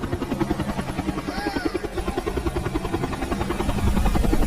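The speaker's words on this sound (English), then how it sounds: "Listen, do you hear that? It is a helicopter." Helicopter rotor thudding in a fast, steady pulse over an island shore, growing slightly louder toward the end as it approaches, with a faint voice briefly underneath.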